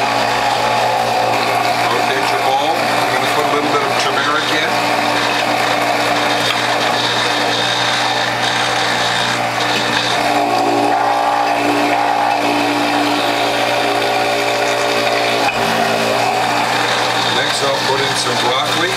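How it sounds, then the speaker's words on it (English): A Norwalk juicer with a near-zero blowback cutter grinds greens into pulp, a loud continuous mechanical whir and rattle running throughout, with someone talking over it. "So let's continue making some pulp for my juice"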